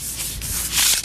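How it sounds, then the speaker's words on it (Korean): Sandpaper rubs across a century-old red pine board joined from three planks, a steady close abrasive hiss that swells louder near the end. "대패질 뒤 사포질로 마무리 다듬질을 한다."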